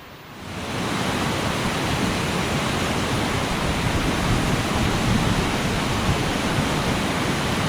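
Ocqueoc Falls, a small waterfall in lower Michigan, roars with a loud, steady wash of rushing water that fades in quickly and then holds constant and close, with no voices.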